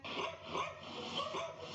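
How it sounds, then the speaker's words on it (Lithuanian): Dogs at an animal shelter bark, yip and whimper in a near-continuous chorus of overlapping, fairly loud calls, with no pause across the short stretch. "šunys loja."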